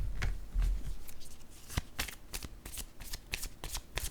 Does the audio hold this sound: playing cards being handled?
yes